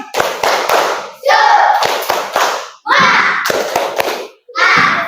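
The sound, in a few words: class doing rhythmic 'tepuk semangat' clapping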